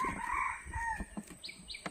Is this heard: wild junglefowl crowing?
yes